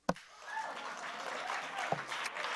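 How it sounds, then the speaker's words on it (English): An audience breaks into applause after a sharp opening clap, a dense sustained round of clapping from a crowd at a speech by Elizabeth Warren. "And you can applaud that."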